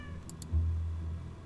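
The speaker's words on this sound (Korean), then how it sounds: "고양이구나." A cat meows twice in a video game: two brief, faint, high mews in quick succession over a quiet, low background hum.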